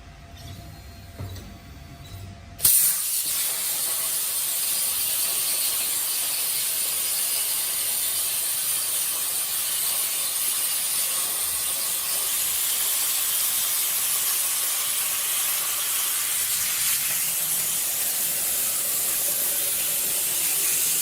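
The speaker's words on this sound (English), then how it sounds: "You can hear the plasma cutter is running." A Langmuir Systems CrossFire Pro CNC plasma cutter fires after a short quiet moment and then holds a loud, steady, harsh hiss that continues without a break as the torch cuts.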